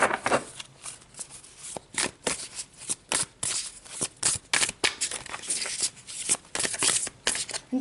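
A second deck of tarot cards being shuffled by hand, close and crisp, in rapid repeated riffling bursts with brief pauses between them, alone without talk.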